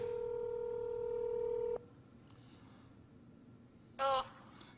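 A telephone call to an opposition leader: a steady dial tone cuts off, then after a quiet pause a short burst of tones sounds near the end, clear and close with no speech.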